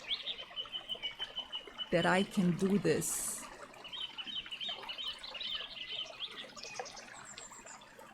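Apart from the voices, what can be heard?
birds chirping outdoors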